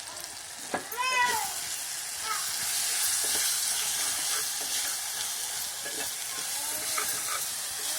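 Onions, tomatoes and chili powder sautéing in a pan give a steady, close sizzling hiss throughout, with occasional clinks and scrapes from stirring.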